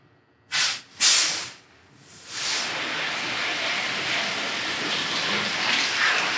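Water spray rinsing out the interior of a square body K5 Blazer, starting with two short bursts and then settling into a steady, loud hiss of spraying water that continues without a break.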